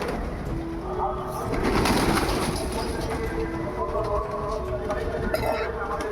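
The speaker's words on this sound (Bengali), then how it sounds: "ওই যা, আর দেখুন কত পায়রা" Several pigeons on a rooftop give soft, low coos in a steady run over a busy outdoor background with a rumbling passing train and someone talking nearby.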